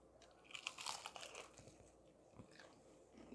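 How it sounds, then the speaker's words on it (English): Crisp crunching of fried Nashville hot chicken being bitten and chewed close up, a run of brittle crackles in quick bursts, with no speech over it. "Can y'all hear that crunch?"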